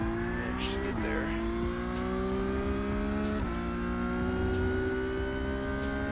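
Mazda MX-5 engine in a racing video game at Hockenheim, a steady sustained drone rising gradually in pitch as it accelerates, with two brief gear-shift dips, loud and continuous throughout.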